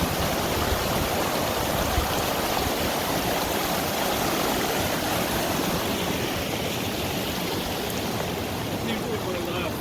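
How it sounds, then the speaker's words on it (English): A river flows at a trail river crossing on the John Muir Trail, a steady broadband rush of moving water filling the scene at constant loudness. "I haven't filmed too many river crossings"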